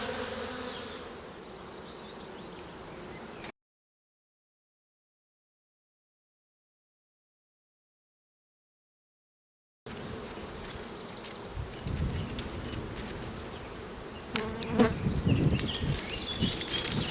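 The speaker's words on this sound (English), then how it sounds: "won't take them very long to walk around the outside of here and into this hive" A honeybee swarm walks around the outside of a hive and crawls in, giving a soft, continuous buzzing hum up close. The sound drops out completely for several seconds and then returns with added rustling and light bumps.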